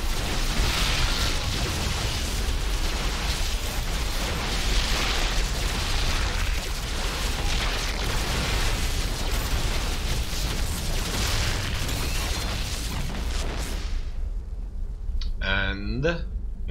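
Units in a StarCraft 2 battle fire constantly, a dense and loud wash of overlapping shots and blasts that cuts off abruptly, followed by a short tonal game effect.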